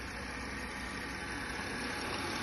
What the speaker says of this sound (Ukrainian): моторчик працює рівненько, гарненько, помилок нема.